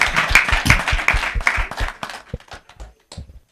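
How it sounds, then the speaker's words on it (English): Audience clapping for a former student at an international school event in Bamako, brief scattered hand claps that fade into a few isolated claps. "Let's clap for him, please."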